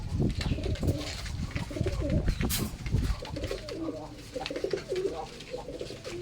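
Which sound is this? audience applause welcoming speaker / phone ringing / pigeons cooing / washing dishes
pigeons cooing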